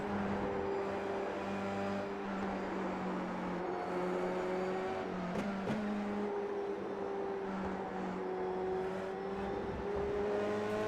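Race cars circling Circuit of the Americas roar steadily in close company, a sustained engine drone with shifting pitch as another car closes in, continuous and loud throughout with no voices.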